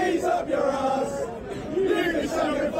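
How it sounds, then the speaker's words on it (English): English fans of the New York Giants chant crudely in unison at an NFL game, a loud, continuous crowd roar with rhythmic sung phrases rising and falling over several seconds, with no single voice standing out. "shout out to the English Giants fans out there for coming up with a shove the fucking cheese up your ass cheer"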